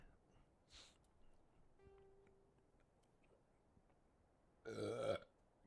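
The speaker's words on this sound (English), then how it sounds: "God damn fucking burps." A single loud, deep burp rings out near the end after a few seconds of faint, quiet background with a soft click or two; no talking is heard.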